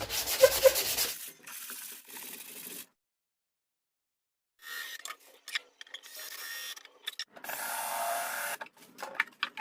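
Sandpaper rubs in short, scratchy strokes over a 3D-printed part being prepared for a fiberglass mould. Bursts of close abrasive friction come in irregular runs separated by a long silent pause.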